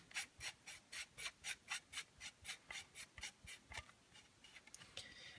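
A part of a Tokyo Marui VSR-10 airsoft sniper rifle is screwed back on, giving about a dozen quiet, evenly paced rubbing twists up close, then a few quicker, softer turns.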